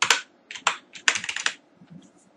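Close keys clatter on a computer keyboard as Java servlet code is typed, coming in quick clustered bursts separated by short pauses, with no voices.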